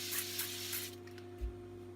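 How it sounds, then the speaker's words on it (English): Evian facial spray mists from a small can in a quick soft hiss of a few spurts, close up and quiet over a faint room hum. "this is just Evian facial spray, any facial spray"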